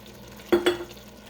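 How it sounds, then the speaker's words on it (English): A spoon stirs homemade spaghetti sauce with crushed tomatoes in a pot, giving two quick close scrapes and clinks against the pot with a faint sizzle, then quiet. "I have enough room, and this is going to cook down, so stir that around"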